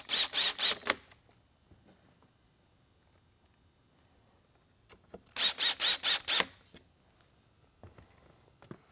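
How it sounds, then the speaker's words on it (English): A stainless steel screw is driven back into an LED mini bar, giving two quick bursts of rapid ratcheting clicks several seconds apart, close and crisp against near silence, with faint small handling taps near the end. "take the stainless steel screws, realign those there, and tighten them back in"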